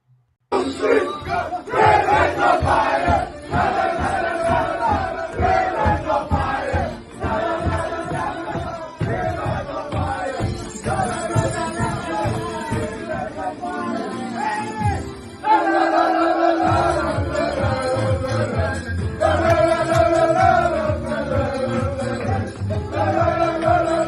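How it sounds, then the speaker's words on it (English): Soccer players of the Valour team celebrate in the locker room, shouting and chanting together in a loud, continuous crowd roar over pounding rhythmic music. "Great cheer, great celebration."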